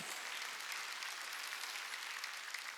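Congregation at a Wednesday church service applauding in a steady, dense burst of clapping from many hands, heard on its own without voices, faint and even throughout.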